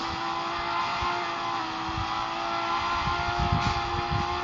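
A car engine in the Car Dealership Tycoon video game revs steadily while shifting through its gears, with a constant droning whine and a rough, rising growl near the end, loud and close with no talking.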